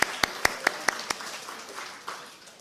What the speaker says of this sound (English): I think we should have a round of applause to the crowd